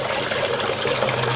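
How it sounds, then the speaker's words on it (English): Nutrient water flows steadily out of a PVC hydroponic system and drains toward the surrounding orange trees, a continuous close-up rush and trickle with no talking. "Whenever this hydroponic system overflows or is flushed, the outflow goes to the trees surrounding the system."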